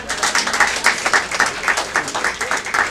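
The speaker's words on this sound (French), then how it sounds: "nous allons applaudir le Seigneur pour ça" A church congregation clapping together at a steady rhythmic beat, repeated hand claps running through the whole stretch at moderate loudness, with a faint murmur of voices beneath.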